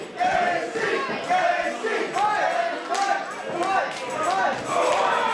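Wrestling crowd at an independent RWA show cheering and chanting in rising, rhythmic bursts, loud and close, with a commentator talking over the noise.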